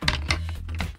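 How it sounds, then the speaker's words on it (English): A sound effect for a house made of sticks in a children's story: a quick clatter of dry, woody tapping and rattling across about a second, close and moderately loud. "The wolf went to the second house, which was made of sticks, which sounds like this."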